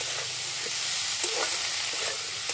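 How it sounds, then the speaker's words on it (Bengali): Water lily stems and prawns frying in a pan with salt and turmeric, a steady close sizzle with occasional light stirring clicks and pops. "লবণ আর হলুদ দিয়ে এটাকে খুব ভালো করে এবার ভাজা ভাজা করে নেব"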